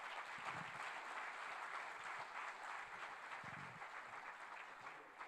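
A church congregation claps together in a steady, faint wash of applause that carries on evenly with no talking over it.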